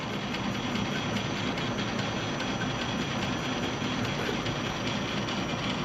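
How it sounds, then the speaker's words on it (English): A Logan model 1875 lathe runs a light scrape pass with a carbide-tipped tool, giving a steady, even mechanical hum and whirring drone with no pauses. "Just a nice easy scrape pass. This is a carbide tipped tool."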